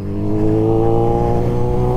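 A motorcycle engine revs hard and close, a loud buzzing drone that rises slightly and holds steady.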